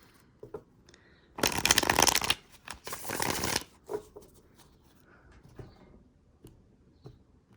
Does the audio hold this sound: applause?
no